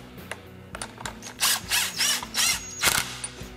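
A power driver sets screws into a Stihl FS string trimmer during a coil replacement, with several close whirring bursts of rising pitch, each ending in a ratcheting stop, separated by quieter clicks and handling.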